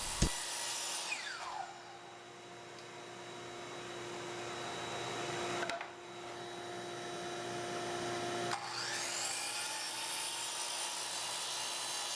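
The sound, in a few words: saw making 45-degree cut in hardwood stair nosing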